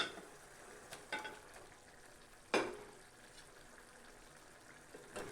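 Fried eggs being stirred into thick masala gravy in a pan, a soft steady sizzle broken by a few scraping spoon strokes, one sharper clatter midway.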